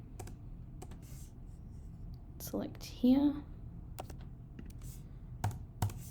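Computer keyboard keys pressed while editing a laser-cut key ring design in Illustrator, a few sparse clicks and taps near the mic, with a person speaking briefly over them.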